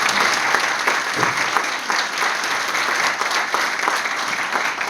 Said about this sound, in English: Maybe we could give Annette a round of applause.